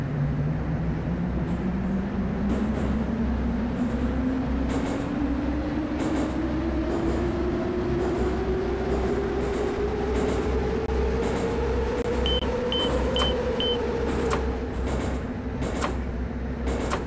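A Moscow Metro 81-717 train runs on the Zamoskvoretskaya line in a 2D simulator game, its traction motor whine rising steadily in pitch as it accelerates over a constant rumble, with a few clicks and short beeps near the end.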